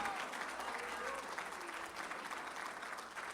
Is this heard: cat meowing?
no